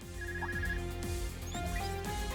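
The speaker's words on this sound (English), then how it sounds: "There goes my phone." A phone ringtone chimes in The Legend of Heroes: Trails of Cold Steel 4, short melodic tones sounding over steady game music with rhythmic low beats.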